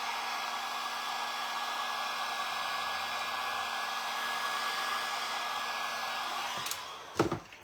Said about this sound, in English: there goes my heat gun